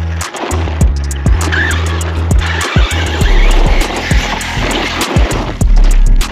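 An Arrma Outcast 6s EXB radio-controlled truck on Ragnarok tires, its electric motor whining loudly and rising and falling in pitch as it accelerates, with tires scrubbing and skidding and sharp knocks as it bounces over the ground, close by.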